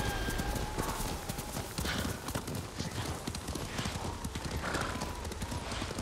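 Horse hooves clip-clop steadily in the samurai game Ghost of Tsushima, a rhythmic trotting beat with an occasional whinny, running under quiet voices the whole time.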